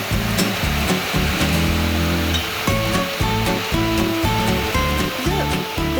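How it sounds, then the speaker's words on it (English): An electric hand dryer blows warm air in a steady, loud whooshing roar that runs throughout, with tonal background music underneath. "Let's see how quickly the hand dryer warms up when I put my hands under the dryer."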